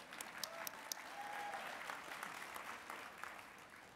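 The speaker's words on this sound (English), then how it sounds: "Come on, you can cheer, it's okay." Graduates at a community college commencement applaud and cheer in a steady, moderately loud burst of clapping that swells and then holds, with a few sharp individual claps standing out over the crowd.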